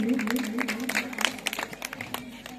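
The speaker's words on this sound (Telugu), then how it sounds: "అందరూ గట్టిగా చప్పట్లు కొట్టి" Audience applause after a children's Christmas dance performance, a loose patter of claps under a steady hum that thins into scattered individual claps toward the end.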